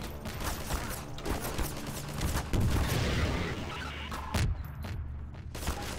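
Shotgun blasts in Half-Life 2 Episode 2 go off one after another amid heavy combat noise, loud booming reports with crashing impacts, while a steady din of battle fills the gaps.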